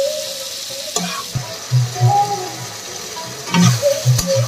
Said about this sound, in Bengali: খাসির চর্বিটাকে বেশ সুন্দর করে কষিয়ে নিতে হবে।